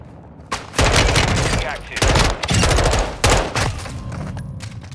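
Heavy gunfire in a video game battle, with sustained bursts and booming volleys that stay loud and close for most of the stretch, and a brief lull near the start.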